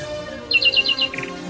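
Small forest birds chirp in a quick run of bright, high tweets, then a shorter second burst, fairly close and clear against a quiet background.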